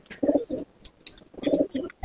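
Racing homer pigeons in a loft in Kolkata, two close, clear rounds of soft throaty cooing a second apart, with faint chirps between.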